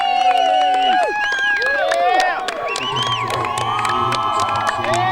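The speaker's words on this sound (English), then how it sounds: "We hear the crowd cheering for that because that was Elise Steinmetz, senior" A crowd at a women's college soccer senior night between Lees-McRae and Erskine bursts into loud cheering, whoops and high shouts, fading into scattered calls and chatter.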